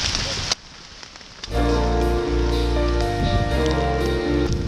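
Steady rain pours on a mountain trail up Merbabu via Suwanting, a dense hiss that drops briefly then returns louder with a low rumble, likely rain on gear or a hood close by.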